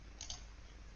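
A computer mouse gives a quick, faint double click, brief and close, against a quiet background hum.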